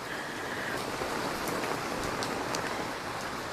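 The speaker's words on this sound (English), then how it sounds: "This is a good tropical storm." Tropical rainstorm shower at a Cap Cana resort villa, a constant roaring patter of heavy rain with a few sharper drip sounds on top and no talking.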